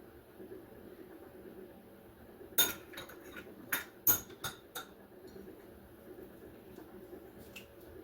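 Spatula scraping nut roll mixture out of a mixing bowl, heard as a handful of sharp, close clacks and scrapes clustered over about two seconds, then a quiet room.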